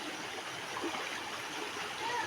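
Water from Australia Falls pours into a chlorine-free swimming pool, a steady, soft rushing and splashing wash with no breaks, heard from nearby but quiet overall.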